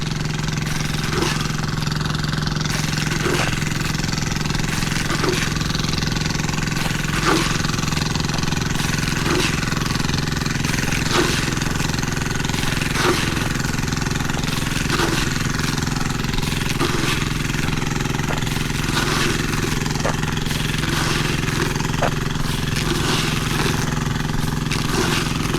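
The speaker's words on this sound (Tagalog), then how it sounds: "Naghihingalo yung makina oh." A diesel engine on a farm, running low on fuel, drones continuously with a steady low rumble and a repeating rough knock, sounding strained throughout without talk.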